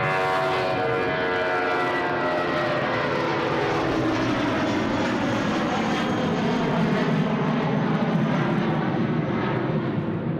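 Aircraft taking off at Sydney Airport, its engine roar steady and loud for the whole stretch, broad and rumbling with a slowly shifting whine, no voices over it.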